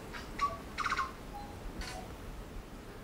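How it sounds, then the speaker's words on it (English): A few bright, varied tui notes and clicks sound in short bursts in Raetea Forest, including a quick trilled phrase, over a faint background hiss. "A tui is a passerine or perching bird."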